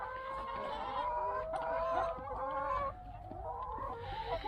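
Several hungry chickens in a coop cluck and murmur close by in a continuous, overlapping chatter, with soft scratching noises in the background.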